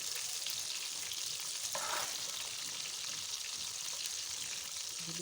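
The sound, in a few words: beef chapli kebab frying in a pan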